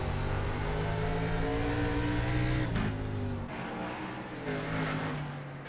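Race cars on throttle on a circuit approaching the halfway point: loud, sustained engine drone with shifting pitch as the cars pass, dropping slightly near the end, no talk.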